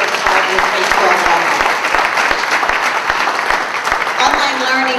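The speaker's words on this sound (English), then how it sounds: "let's give a round of applause for our IT team" Applause at a ribbon-cutting ceremony for a school satellite campus, a steady crowd clapping with a few sharp close claps standing out in a regular rhythm, while people talk over it.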